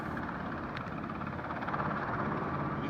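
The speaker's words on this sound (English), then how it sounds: "You can probably hear the rumble of the chopper" Coast Guard rescue helicopter rumbling overhead during Hurricane Harvey flooding in Braeswood Place, a steady broadband low drone holding evenly throughout without voices.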